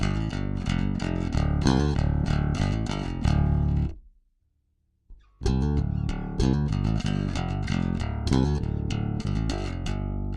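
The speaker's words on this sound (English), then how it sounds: "here's the sound of my bass, completely clean with no processing on it at all" Electric bass guitar with Seymour Duncan active pickups, played completely clean and unprocessed in a busy run of notes that stops briefly for about a second before resuming, loud and alone.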